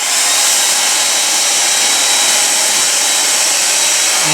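A hair dryer blows steadily and loudly at close range to heat a bent piece of memory metal, a continuous broadband whoosh with no pauses or talk.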